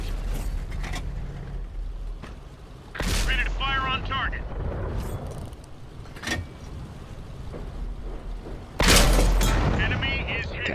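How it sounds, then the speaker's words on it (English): Booming cannon shots from an M4A3E8 Easy 8 Sherman in World of Tanks crack loudly twice, each followed by a mechanical reload clank and rumbling engine, while a commentator talks throughout. "A nice shot into the side of the tank destroyer."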